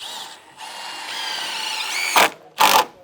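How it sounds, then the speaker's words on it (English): A power drill drives GRK R4 structural screws into lumber: a sustained whirring run that builds in pitch, then two short, sharp bursts as the screws seat, close and loud. "We're just tacking this down with some GRK R4 structural screws"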